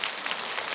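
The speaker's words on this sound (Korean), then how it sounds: "저한테 박수 치지 마세요." Audience at a lecture hall talk claps in a brief burst of dense, even applause that stays at a steady level from start to finish.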